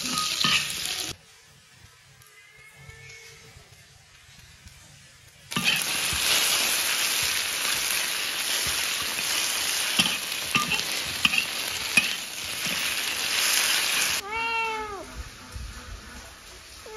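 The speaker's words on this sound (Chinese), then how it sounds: "今天我们用柴火炒菜啊" Food stir-frying in a wok over a wood fire in a farmhouse kitchen, with bursts of sizzling and scraping; a cat meows repeatedly near the start and again near the end.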